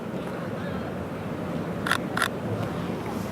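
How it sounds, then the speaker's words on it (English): Two quick shutter clicks from a Sony Alpha a7R III mirrorless camera with a 70-200mm lens, sounding in close succession over a steady outdoor city background. "You can hear the shutter sound is a little bit different too."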